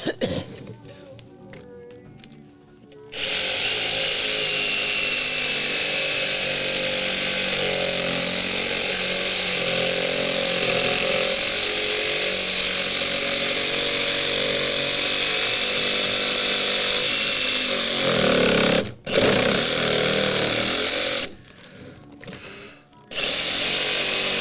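Power sander working over mandolin parts, a steady loud grinding drone that runs for most of the stretch, starting after a few seconds of quieter handling and broken by brief pauses near the end.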